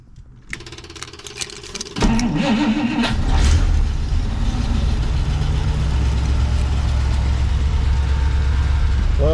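A 1958 Packard that has sat unused for months cranks for about two seconds, then catches and settles into a loud, steady close-up idle.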